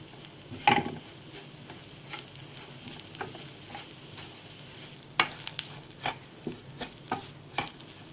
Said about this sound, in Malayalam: 1/4 ടീസ്പൂൺ മഞ്ഞൾപ്പൊടി, 1/2 ടീസ്പൂൺ കുരുമുളക് പൊടി, 1/2 ടീസ്പൂൺ ഗരം മസാല എന്നിവ ചേർത്ത് നന്നായി ഒന്ന് വഴറ്റി കൊടുക്കാം.